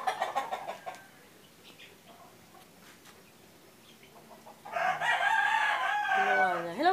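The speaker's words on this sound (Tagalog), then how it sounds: "Hello mga manok! Tatlo sila. Oh, tatlong manok." Three backyard chickens by a homemade coop: a rooster crows loudly near the end, with quieter clucking and a person talking in between, close and clear.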